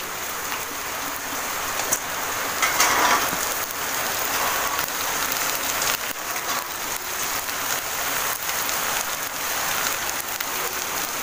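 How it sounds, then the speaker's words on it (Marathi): Heavy monsoon rain falls steadily onto surfaces at an outdoor village wood-fire stove, a dense, continuous hiss with occasional louder drips and no voices. "भरपूर पाऊस सुरुवात झालेला आहे, त्याच्यामुळे पावसाचा आवाज पण रेकॉर्ड होणार आहे."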